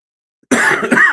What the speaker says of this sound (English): I got a little bit of cough left.